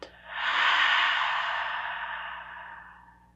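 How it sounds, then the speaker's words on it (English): A single long, deep exhale during a guided meditation, a breathy airy rush that swells quickly and then fades slowly over about three seconds, close to the microphone, with no talking. "Take a deep breath out."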